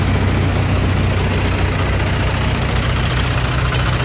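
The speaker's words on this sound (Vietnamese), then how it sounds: "Máy nổ rất là êm luôn" A Kubota diesel tractor engine, M5500DT or M7950DT, idles close and loud with an even, steady low rumble and fine mechanical knock, unchanging throughout with no speech.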